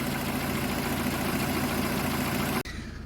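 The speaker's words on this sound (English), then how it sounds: "that's the fans running again, so the fans are cutting in and out" A Rover 45 engine idles steadily with a constant whirring radiator fan drone, then the fans cut off abruptly near the end, leaving a quieter hum.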